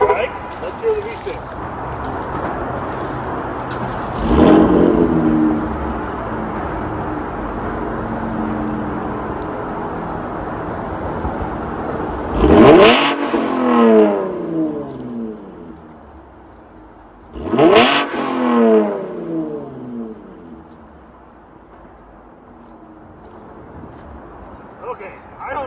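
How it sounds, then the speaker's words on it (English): A 2020 Chevrolet Camaro 1LT V6 fitted with the NBRP exhaust starts and revs: a rising roar early, then two strong, sweeping revs with falling tails over a steady idle, recorded up close. "let's hear the difference of an SS in track mode firing up versus a 1LT V6 with NBRP firing up"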